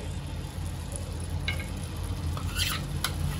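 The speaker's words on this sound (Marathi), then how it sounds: "आणि आता ह्याला तुपामध्ये चांगलं मिक्स करून घेते" Hapus mango pulp is stirred into melted ghee in a pan, giving a quiet, steady sizzle with a few soft scraping strokes of the spoon.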